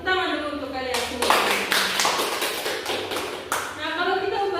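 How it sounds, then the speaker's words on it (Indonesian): A classroom of students claps hands together for a few seconds in a lively burst that starts abruptly and cuts off, with a teacher's voice heard before and after the clapping. "Tepuk tangan dulu untuk kalian semua."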